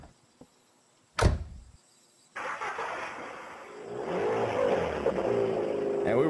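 In the indie horror game Teke Teke: Moonlit Dread, a sharp thud and brief clatter, then a car engine starts up and rolls away with a steady, rising whir.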